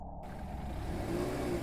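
A retro Gameboy-style game sound effect of the homeowner's car revving and pulling away down the road, a steady mid-pitched engine drone that swells slightly as it accelerates.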